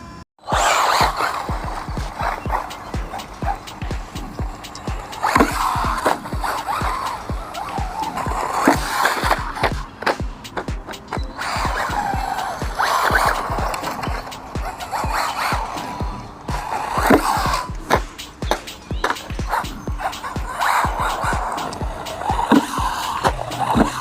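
An RC car driving off-road at speed, its electric motor whining loud and close while the tires grind and skid over rough ground and the car rattles in rapid, continuous bursts.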